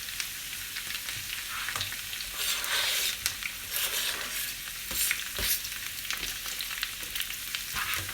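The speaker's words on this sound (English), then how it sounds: "So I'm going to add these onions into my potatoes." Onions go into potatoes frying in a pan, producing a loud, steady sizzle with bursts of crackling and scraping as the food is stirred.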